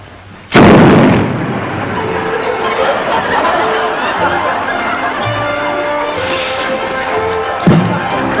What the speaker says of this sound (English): when I light that, it'll explode